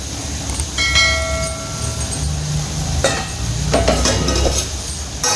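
Potato and carrot curry frying in a pan, with steady low sizzling broken by occasional scrapes and clinks of a stirring spoon against the pan, continuous and close throughout.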